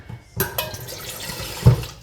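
Water poured through a tea filter into a kitchen sink, a few brief splashes and trickles with a sharp splash near the start and a louder gush toward the end, close and short, no talk.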